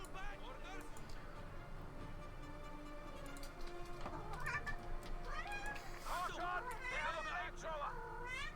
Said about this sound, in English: Yes, Basil, you're a cat.